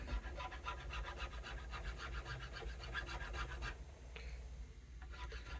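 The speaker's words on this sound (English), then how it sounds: "This is just boring filing stuff." A hand file rasps across the body of a vintage Rickenbacker guitar in steady diagonal strokes, a close, moderately loud run of repeated scraping passes that pauses briefly near the end.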